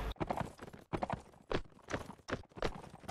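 Hooves of heavy war horses clip-clop in a medieval battle video game, a quick, steady run of close, crisp hoofbeats with short gaps between bursts.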